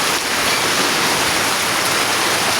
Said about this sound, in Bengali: এই দেখুন, এই প্রচুর পরিমাণ বৃষ্টি হচ্ছে